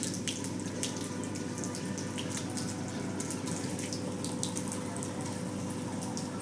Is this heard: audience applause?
no